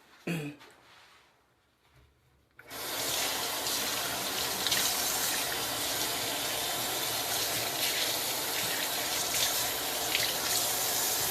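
Kitchen faucet running steadily over a chrome fixture being washed in a new sink, water starting abruptly after a few quiet seconds of faint handling and then gushing continuously.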